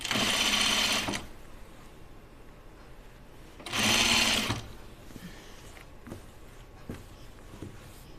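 A sewing machine runs two loud bursts of stitching as binding is sewn around the armhole of a Dahlia dress, with quiet handling noises in the pauses between.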